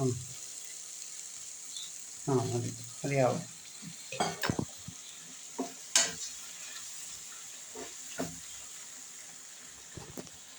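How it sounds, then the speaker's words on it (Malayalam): Hot water goes into a heated pan of egg curry, raising a quiet hiss and sizzle, broken by scattered bursts of stirring and clinks of a utensil against the pan. "ഇതിലേക്ക് അല്പം ചൂടുവെള്ളം നമുക്ക് ചേർത്ത് കൊടുക്കാം."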